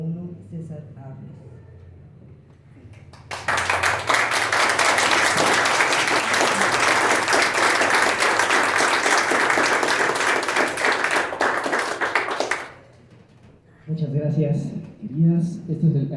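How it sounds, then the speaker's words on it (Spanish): A book presentation audience bursts into loud, sustained applause for about nine seconds, dense and even, after talk fades; speech resumes once the clapping stops. "este es el aplauso para ustedes"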